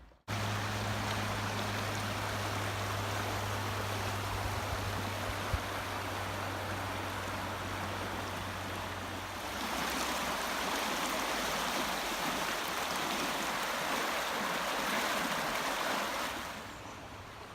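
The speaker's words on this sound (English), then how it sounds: "it goes right along the river" River flowing beside a walking trail at Blackwell Mills on the Monsal Trail in the Peak District, a steady broadband rush of water heard throughout, alone and moderately close, with a low hum in the first half.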